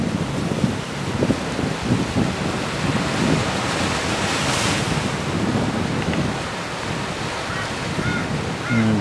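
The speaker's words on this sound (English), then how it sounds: "Current's washing up on these rocks." Steady loud roar of ocean waves washing over rocks, with gusting wind noise buffeting the microphone and a few deeper rumbling surges along the way.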